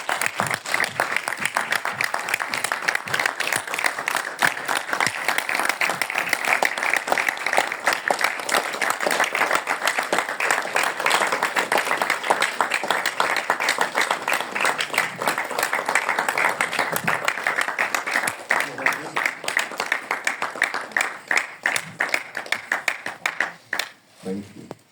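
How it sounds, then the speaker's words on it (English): An audience at a Berlin briefing applauds Evgeny Afanevsky and Anya Zaitseva, sustained crowd clapping that holds strong for most of the time before thinning into scattered claps and fading at the end. "Please give Evgeny Afanevsky and Anya Zaitseva a warm round of applause"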